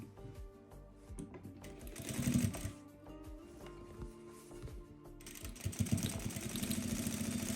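Quiet, close sewing machine stitching scrolls on a salwar hem, made up of rapid mechanical rattling bursts that slow and pause, then pick up again.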